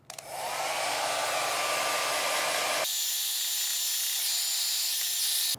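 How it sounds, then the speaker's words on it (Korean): A hair dryer blows continuously with a steady, loud whoosh, then switches to a higher, thinner setting partway through. "이제 드라이기를 건조를 시켜보고 비교해볼게요."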